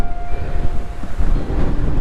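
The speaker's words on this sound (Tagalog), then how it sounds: "Ang lakas ng hangin." Strong wind buffeting the microphone at a Pacific Ocean viewdeck in Dingalan, Aurora, loud low rumbling gusts rising and falling over two seconds.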